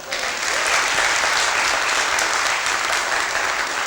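An audience at a TEDx event claps steadily, a dense, loud wash of many hands sustained throughout without a break, with no talking over it.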